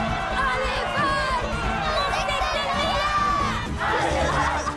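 A cartoon crowd cheers and shouts for a world champion's entrance in a Beyblade Burst Turbo episode, loud and continuous with excited children's voices, while a voice speaks over the noise.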